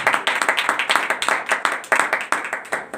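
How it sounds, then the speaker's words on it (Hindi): Congregation clapping in unison during a Hindi-language church sermon, loud rhythmic claps repeating at a quick steady beat, many hands together close by, with no talk over them. "जोरदार तालियां खुदा के जलाल के लिए"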